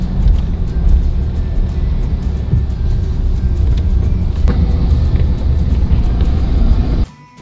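Car at a KFC drive-through, its engine a loud steady low rumble with passing traffic noise that cuts off abruptly near the end.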